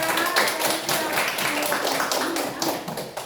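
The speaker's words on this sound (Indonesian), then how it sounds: "Beri tepuk tangan untuk saya." A classroom group gives a short round of clapping, a dense patter of hand claps lasting a few seconds, moderately loud with some voices mixed in.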